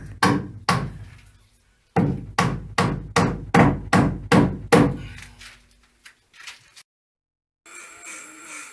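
Hammer blows drive the last nail into a ceiling being boarded, a steady run of about ten sharp, ringing knocks with short pauses, followed by quiet and faint outdoor background.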